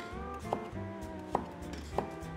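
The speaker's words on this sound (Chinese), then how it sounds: "红萝卜切滚刀块" A knife roll-cutting carrots into chunks on a board, three sharp, evenly spaced chops over a steady hum of background sound, close and clear.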